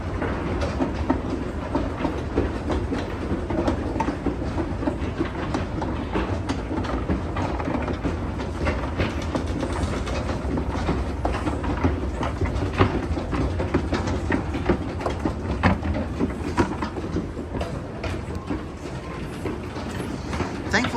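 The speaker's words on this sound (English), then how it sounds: "the chugging sound of these escalators are drowning out the music" Antique Otis wooden escalators at Macy's chugging steadily, a loud continuous mechanical rumble with rhythmic clattering that fills the space, no talk.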